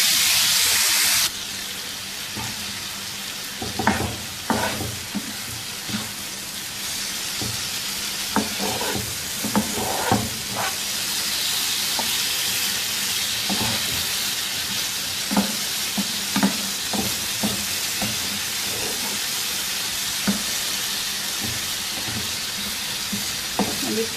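Chicken tikka pieces cooking on a tawa over medium heat, a steady hissing sizzle broken by repeated scraping and turning strokes, heard close and alone.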